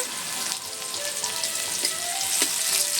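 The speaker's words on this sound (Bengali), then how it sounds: "তেলে এবার শুকনো লঙ্কা দিয়ে দিচ্ছি, আর দিয়ে দিচ্ছি গোটা জিরে, পেঁয়াজ কুচি," Dried red chillies, whole cumin, chopped onion and bay leaf fry in hot oil with a steady, bright hiss and crackle, close and even throughout, with no talk.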